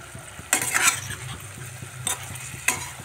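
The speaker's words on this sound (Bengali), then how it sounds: "গ্যাসের আঁচটা বাড়িয়ে সবজিটাকে একটু ভালো করে কষিয়ে নিচ্ছি" Winter vegetables stir-fried over a high gas flame for a rohu fish curry: a steady, close sizzle broken by three sharp scrapes and clanks of a spoon against the pan.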